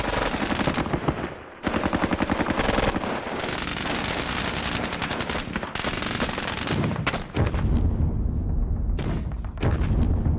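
Mortar shelling in Squad Battles Eagles Strike, a WWII battle game: dense, loud, continuous bursts and booms with rapid repeated impacts filling the whole stretch, briefly dropping out twice.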